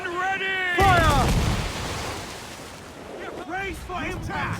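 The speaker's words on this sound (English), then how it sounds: "Cannon ready! Fire!" In the Assassin's Creed IV: Black Flag video game, a ship's cannon booms loudly once between voices shouting orders on deck, followed by a rumbling decay with wind and sea.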